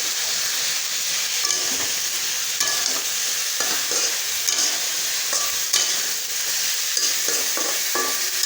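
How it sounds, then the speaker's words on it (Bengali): Fish and potatoes fry in a pan, giving a steady close sizzle broken by repeated scraping stirs of a utensil against the pan. "বটবটি দিয়ে আলু দিয়ে মাছ দিয়ে রান্না হচ্ছে।"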